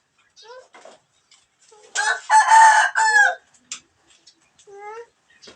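A chicken on a roof clucks and squawks in short bursts, with one louder, longer crowing call in the middle, close by and otherwise quiet.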